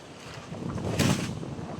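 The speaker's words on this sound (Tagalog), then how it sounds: "Parang utay-utay na ng kapit ang hangin guys, oh, parang magabagat na." Strong habagat monsoon wind gusts hard, rising into a buffeting rush that peaks midway and slightly eases, loud and close with rumbling wind noise on the microphone.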